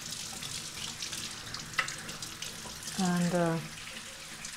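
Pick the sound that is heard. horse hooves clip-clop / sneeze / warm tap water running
warm tap water running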